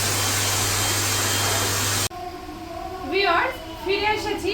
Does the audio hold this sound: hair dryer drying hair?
yes